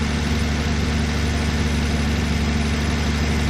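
A 1964 Plymouth Belvedere engine idling steadily up close, a constant low rumbling throb with an even, rapid pulse and no other sounds.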